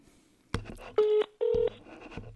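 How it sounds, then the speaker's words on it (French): A phone call being dialed: a couple of steady electronic dial tones sound in sequence, broken by short clicks and handling noise, with no one talking over them. "on appelle ici ce monsieur, Nestor Wembois, qui fuit la confrontation."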